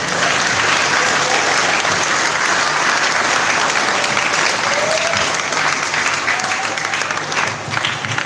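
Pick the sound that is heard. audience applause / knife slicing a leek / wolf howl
audience applause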